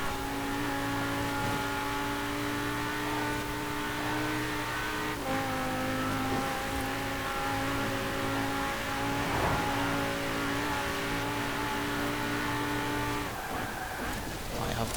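A Lamborghini Urus SUV races in Forza Horizon 4, its engine holding a steady, sustained drone with a pitch shift partway through, while someone talks over the continuous engine noise.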